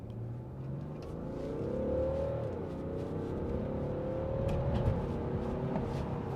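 A BMW 640d diesel F13 coupe accelerates in sport mode, its engine drone climbing and shifting pitch steadily from inside the cabin, moderately loud with road rumble underneath.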